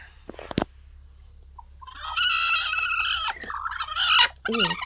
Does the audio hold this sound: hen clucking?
yes